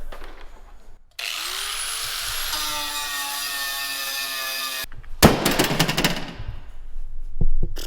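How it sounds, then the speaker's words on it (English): Angle grinder working car metal down to bare metal, a high whining tone spinning up and running steadily for several seconds, then harsher rasping bursts of grinding contact, loud and close. "you're going to go ahead and grind a little bit down to bare metal"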